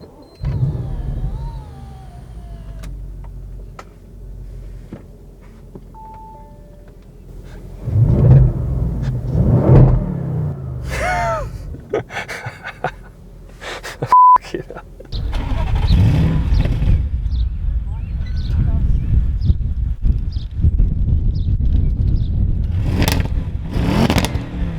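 An Audi RS6 C7 engine cranks and fires up loudly nearby, followed by a strong idle with a couple of revs.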